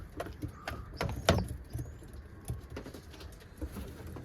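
Pigeons in a coop pecking feed from a cheese container: quick, light tapping pecks in scattered bursts, with soft fluttering and a faint coo nearby, and no talking.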